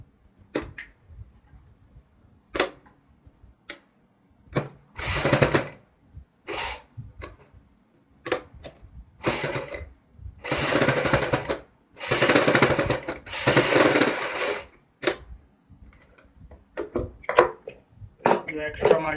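A sewing machine stitching along the neckline of a kurti, loud bursts of rapid mechanical whirring that start and stop repeatedly, separated by clicks and handling of the fabric.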